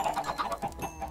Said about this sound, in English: Goodness, there are so many chickens.